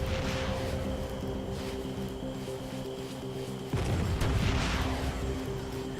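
Artillery support fire in the Arma 3 video game booms distantly under a constant droning vehicle hum, with a heavier thump arriving partway through and a rumbling tail.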